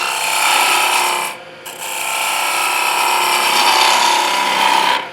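A lathe chisel takes light, fine cuts on spinning wood during practice turning, making a continuous close scraping hiss that dips briefly as the tool lifts away, then resumes steadily.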